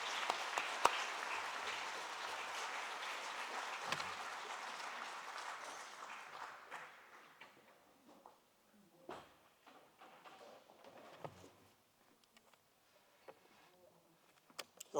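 An audience at a Spirit of Democracy event applauds to welcome Senator Wayne Wallingford, a dense round of clapping that fades over several seconds into scattered claps, shuffling and faint room noise.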